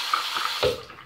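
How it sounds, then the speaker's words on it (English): Warm water poured into a slime mixture gives a short, close splashing gush with a gurgle, quiet and without talk. "Now add warm water."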